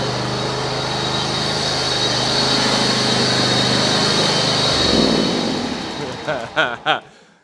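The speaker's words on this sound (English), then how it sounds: "Everything bolted together. Transmission is running." A John Deere riding mower fitted with a Tuff Torq K58 or K46 transmission runs with a loud, steady engine drone that eases off near the end, followed by a few sharp knocks.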